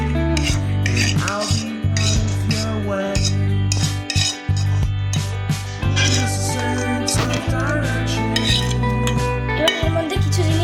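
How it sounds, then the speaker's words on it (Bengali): Sweet corn mixture being poured and scraped into a separate bowl, with repeated metallic scrapes and clinks of a utensil against the bowl over steady background music, close and continuous. "এবার এইটাকে আমরা আলাদা একটা বাটিতে ঢেলে দিচ্ছি"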